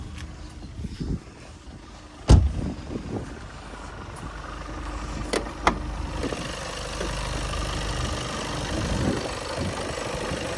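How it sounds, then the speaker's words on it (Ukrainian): A 2018 Volkswagen Passat B8 2.0 TDI diesel engine, 190 horsepower, idles steadily at close range, a low even rumble, with a few sharp clunks and knocks early on. "двигунець, все заводиться, працює гарно зараз"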